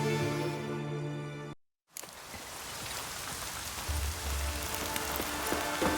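Steady rain pours down in The Witcher 3, a constant hiss of drops after a brief cut, with a low rumble joining in toward the end.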